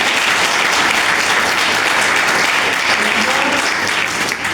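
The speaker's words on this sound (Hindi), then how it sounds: "ताली बजाओ दोस्तों।" A church congregation claps steadily through a Sunday service, a dense, loud wash of applause that holds its level throughout with no pauses.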